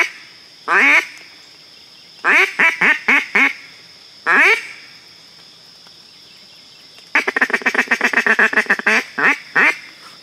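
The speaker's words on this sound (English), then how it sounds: "Ducks right out." Ducks quacking during a waterfowl hunt, loud close bursts of raspy quacks in uneven series, ending in a rapid rolling chatter of calls.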